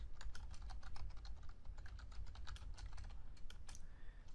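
Code is typed on a computer keyboard in a fast, steady run of close, crisp key clicks over a low background rumble, with no voices.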